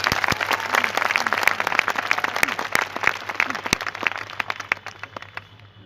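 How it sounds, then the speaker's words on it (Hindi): A crowd applauding steadily, dense clapping with a few sharp louder claps, gradually thinning and fading toward the end. "कंपनी वालों के लिए भी जोरदार ताली बजा दीजिए"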